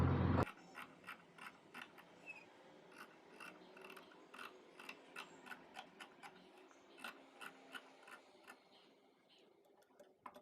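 Scissors snip through fabric for a frill frock in a run of faint, close, rhythmic cuts, each a short crisp crunch, after a brief loud bump at the start.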